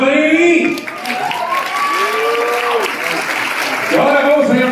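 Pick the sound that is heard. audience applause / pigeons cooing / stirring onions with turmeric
audience applause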